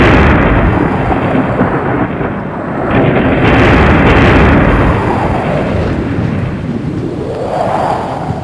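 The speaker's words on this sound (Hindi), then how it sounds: "तूफान आया।" A loud, dense storm roars continuously at sea around a ship, with deep rumbling surges like thunder and howling wind swelling and easing over several seconds.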